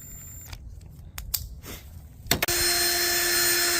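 A few scattered clicks and taps give way to a drill with a pin chucked in it suddenly spinning up, whining steadily and loudly until the end.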